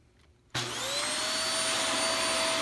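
A Hoover Air Steerable vacuum cleaner switches on after a quiet moment, jumping to a loud, steady motor whine with a rising pitch as it spins up, then holding a constant roar close by.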